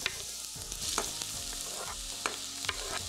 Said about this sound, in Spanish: Hay que dore un poco la cebolla